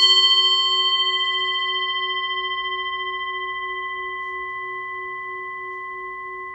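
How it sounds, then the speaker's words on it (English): A Tibetan singing bowl rings with a pure, steady, layered tone that fades slowly over several seconds, close and clear, with no voices. "It's a singing bowl from Tibet."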